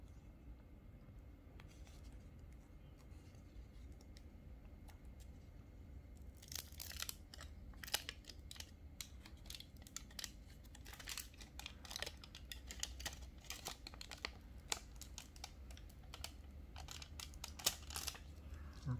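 Aluminum foil tape is handled and pressed down, faint close crinkling, tearing and tapping clicks that grow busier and more frequent over about nineteen quiet seconds.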